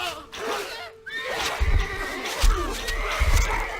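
A horse whinnies in the Stronghold Crusader strategy game, with game effects and low rumbling thuds around it and a few rising tonal calls; no one speaks.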